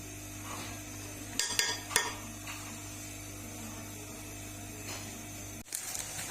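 Grated carrot halwa with cream and desi ghee is roasted in a pan, with a faint low sizzle beneath sharp metallic clinks and scrapes of a spoon stirring against the pan.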